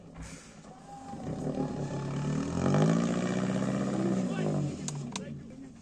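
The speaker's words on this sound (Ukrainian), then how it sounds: "А то заводится для вас машина якась." A Niva off-road car engine revs hard at an off-road competition in Vinnytsia, a rising, roaring growl that swells, holds, then drops away, with people talking nearby.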